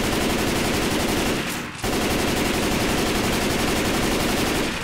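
Rapid, dense gunfire in Left 4 Dead 2 from a pistol crackles loudly and continuously, broken by one brief pause before the shots resume.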